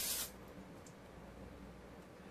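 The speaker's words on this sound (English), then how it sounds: "To lightly spray your crock pot with some cooking spray." A short burst of cooking spray hisses once into a crock pot at the start, then only faint quiet room tone remains.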